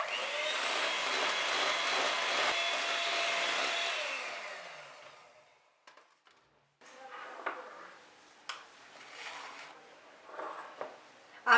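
An electric hand mixer beats cake batter for a tea cake after eggs and vanilla essence go in, a loud steady whirring drone for about four seconds that winds down, followed by quieter clinks and handling sounds.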